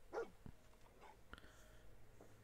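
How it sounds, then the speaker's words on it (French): A dog barks and whimpers in Fallout 4, a few short, soft yelps spread over a couple of seconds with faint game ambience behind. "Ah mon dieu, un chien."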